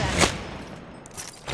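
A brief, fairly faint burst of rapid gunfire in an Apex Legends match, followed by a softer rumbling tail and a few scattered shot-like hits.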